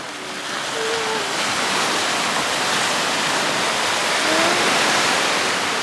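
Sea waves breaking at the seashore make a broad, steady rushing wash that swells slightly toward the end, with faint tonal sounds briefly above the surf and no talk.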